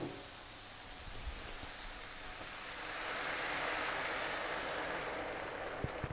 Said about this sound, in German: Dann gießen wir das Ganze mit Wasser auf.